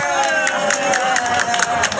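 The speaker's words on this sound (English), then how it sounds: "Well, Jesus, that was the whole fucking table clapping." Clapping from a whole dinner table plays back from a recorded clip, a quick, fairly even patter of several people's hands. Overlapping chatter and a sustained tone run beneath it at moderate volume.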